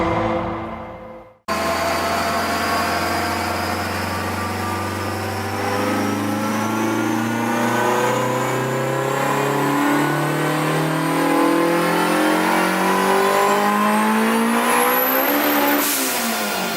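A high-powered car of about 912 horsepower with a failing clutch revs hard. After a short silence a loud, close engine roar climbs steadily in pitch with a rising whine for about fifteen seconds, then cuts off abruptly.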